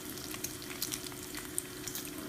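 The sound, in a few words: bacon frying in a pan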